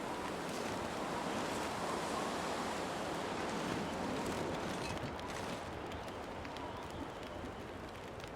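Steady, loud wind roaring without a break in the video game The Long Dark, a broad rushing noise like gusts over open ground, with no voices.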